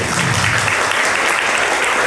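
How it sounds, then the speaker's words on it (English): An audience claps for a presenter at a research talk, a loud, even, continuous burst of many hands throughout. "please give applause to Miss Maggie"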